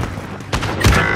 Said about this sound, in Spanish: ¡Me disparan!